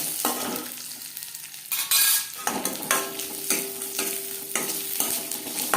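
Cashews and raisins fry lightly in a little ghee in a separate pan, a soft continuous sizzle broken by repeated scraping and clinking of a spatula stirring against the metal, close up with no voices.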